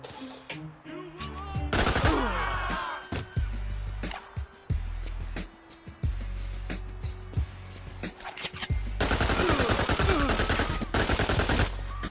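Assault rifles and other weapons fire in a narcotics-officer action video game, with rapid bursts and single shots, loud and close, among game effects.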